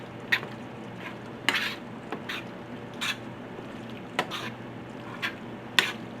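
Chili beans cooking in a pot give a steady low sizzle, with a metal spoon clinking and scraping against the pot in sharp intermittent strikes throughout.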